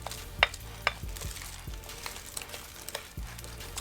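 Dry seasoning of ginger, pepper, salt, cayenne and garlic powder being stirred together in a bowl, with a couple of sharp scraping clicks early on, then soft, steady mixing against a low background hum.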